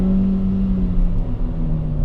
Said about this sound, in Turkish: Sesi güzel, rolantide hiç titremiyor.